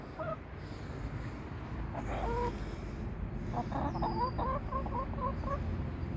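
Chickens cluck in short stuttering bursts against a steady outdoor rumble, with a faint bird chirp above.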